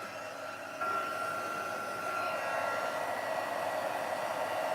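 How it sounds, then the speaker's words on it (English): A heat tool melts embossing powder on a card, giving a steady whooshing blower hiss that jumps slightly louder after the first second and then holds constant throughout. "I'm going to bring my heat tool in and just melt those powders."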